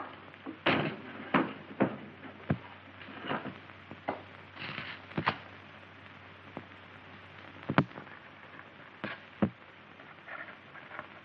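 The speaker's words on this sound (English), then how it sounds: "Shut that door and wait below." A door shut inside a room in a 1951 Western film, with a sharp clack near the start and several more knocks and thuds of wood over a quiet, faintly rumbling background, no voices.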